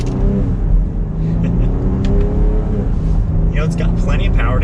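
A 2022 Jeep Grand Cherokee L Altitude 4X4 accelerates hard in sport mode using the paddle shifters, a steady loud engine drone heard from inside the cabin with some speech over it.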